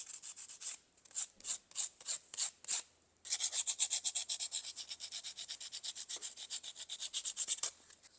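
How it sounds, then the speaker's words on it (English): Sandpaper rubbed by hand over a sculpture, starting as short separate strokes in a steady rhythm, then switching to fast continuous back-and-forth rasping, close and fairly soft with no talking. "That allows you to bear down a little harder and sand faster."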